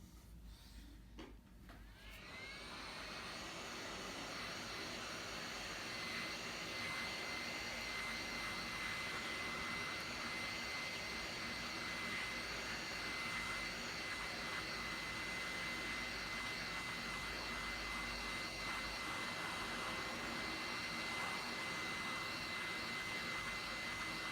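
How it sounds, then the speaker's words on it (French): Heat gun blowing hot air to loosen the screen of a Huawei P9 lite, starting up after a brief click and then a steady loud whooshing roar with a faint high whine, close and continuous. "on va chauffer toute la partie du haut et toute la partie du bas pour décoller notre écran"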